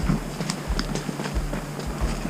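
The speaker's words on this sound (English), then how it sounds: "this is the first time I've ever been on a horse" Horse hooves clip-clop at a steady walking rhythm while being ridden downhill on a goat hunt in British Columbia, the close, evenly spaced thuds repeating over a low background rumble.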